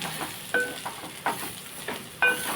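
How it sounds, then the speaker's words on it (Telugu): Ivy gourd frying with chili powder in a pan for a coconut chili fry, giving soft steady sizzling broken by several short stirring scrapes, close and fairly quiet with no talking. "ఇప్పుడు మనం కారం వేసిన తర్వాత మనం కొద్దిసేపు ఫ్రై చేసుకుందాం."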